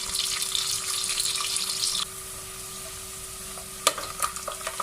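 Onions fry in a pan with a dense, bright sizzling hiss that drops to a quieter crackle midway, followed by a few stirring clacks near the end. No one speaks.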